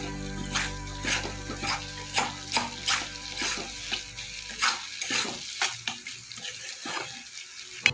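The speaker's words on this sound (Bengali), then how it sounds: "পেঁয়াজটা একটু লাল লাল করে ভেজে নেবো।" Onions frying in a pan for a prawn dish, stirred with a utensil: a steady sizzle broken by repeated scraping and clinking strokes at an irregular rhythm, close up and with no talking.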